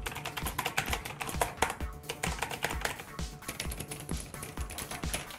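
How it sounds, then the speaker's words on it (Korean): Fast, clacky typing on a Rymek retro-style mechanical keyboard with Cherry MX switches, dense irregular keystrokes close up with one short pause. "실제 제가 타이핑을 해봐도 키감이라던가 키 사운드는 그리 나쁘진 않았습니다"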